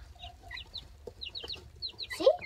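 Young chicks around day thirteen, combs coming in, give soft repeated chirps and clucks with a brief flurry of wing flapping, close by, with no talk over them.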